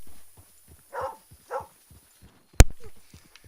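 Two short barks from a dog in the open-world game Red Dead Redemption 2, at moderate distance, set among faint clip-clop footsteps and one sharp loud knock.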